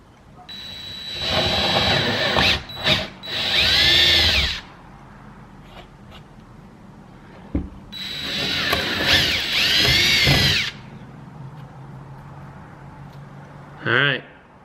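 A power drill bores larger bolt holes in two long, loud whirring bursts separated by quieter pauses, with a few short mechanical clicks between them.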